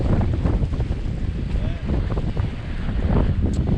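A Beneteau First 53 cruising yacht, a 15-ton performance version with a tall carbon mast, sails into the swell in light wind, giving a steady roar of wind buffeting and water rushing along the hull throughout.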